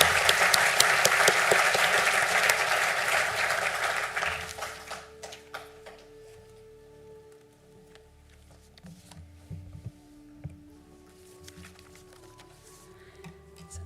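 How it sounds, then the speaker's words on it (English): Spring conferring ceremony audience in Sligo claps for Civil and Construction and Computer Science graduates, a loud burst of many hands that fades after about four seconds into scattered taps and a quieter room. "a round of applause for Civil and Construction and Computer Science"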